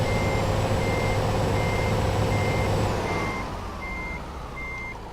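Reversing alarm of a truck in the video game Euro Truck Simulator 2 during a World of Trucks event: seven evenly spaced, bright beeps ring out over a loud, steady engine drone that eases slightly midway, with no talking.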